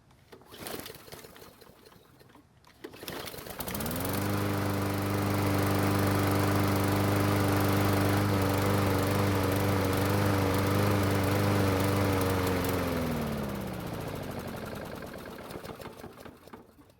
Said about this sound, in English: I need to run the engine to get rid of that fuel.